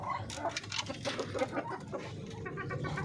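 Darag native chickens cluck and chatter close by in a rapid, overlapping flurry of short calls, with several birds clucking at once.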